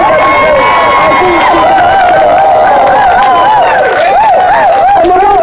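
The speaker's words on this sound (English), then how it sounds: "Please make that applause louder and bigger" A rally crowd claps and cheers loudly and continuously, a dense wash of applause with voices shouting and whooping over it.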